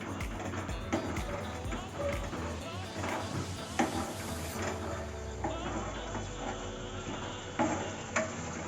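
Spices and poppy-seed paste are stir-fried in a pan over raised gas heat for a prawn rasha curry, with a steady, close sizzle and repeated scraping and stirring strokes throughout.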